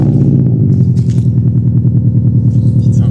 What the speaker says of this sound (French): Donc au ralenti, bruit très rauque